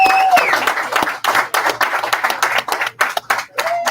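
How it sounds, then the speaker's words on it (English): A small live crowd at Dagwood's claps for a fan-view show presented by City Distilling, loose uneven applause with audible separate hand claps and gaps between bursts. "Let's give a big Dagwood applause."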